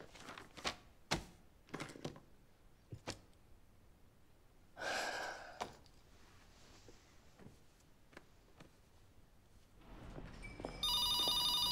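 A telephone rings indoors at the very end, loud and electronic, after a quiet stretch of soft breaths, gasps and small movement sounds.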